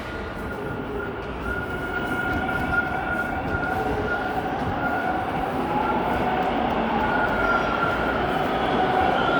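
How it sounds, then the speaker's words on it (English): A Toronto 510 Spadina streetcar rumbles steadily closer, with a rising roar and a faint high whine of wheels on rails, growing slightly louder over several seconds. "And right on time, here's my train."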